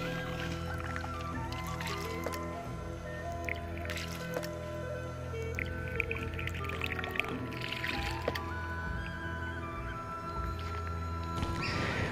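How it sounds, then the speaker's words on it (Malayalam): A homemade bamboo shishi odoshi fountain trickles and drips softly and continuously, with faint wet squishes and light knocks in a quiet setting. "നമ്മുടെ ബാംബു വാട്ടർഫാള് വർക്കിംഗ് ആയിട്ടുണ്ട്"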